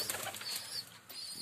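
Pigeons at a small backyard pigeon loft, a short flurry of wing flaps and rustling, close and fairly soft.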